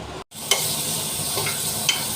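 Four dry red chillies fry in hot oil for a tomato mash, giving a steady close sizzle with a brief silent gap and a couple of soft stirring scrapes.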